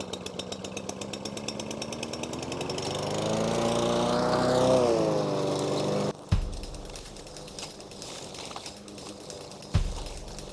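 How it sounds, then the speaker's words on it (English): An old, worn lawnmower engine warms up and sounds close to failing, with a rough, uneven buzzing roar that swells and wavers before cutting out abruptly, followed by a quieter uneven sputter and a sharp knock. "I've had this lawnmower for a few years and I think it sounds like it's dying"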